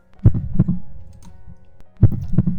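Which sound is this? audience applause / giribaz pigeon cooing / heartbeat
heartbeat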